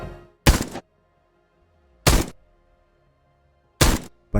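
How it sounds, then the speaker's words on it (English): Three separate heavy shots from a designed gun sound effect recreating an Arc Raiders weapon, each a sharp, loud blast with a short tail, spaced well apart with silence between them. "to make a good gun sound, you really need to take the time to design it carefully"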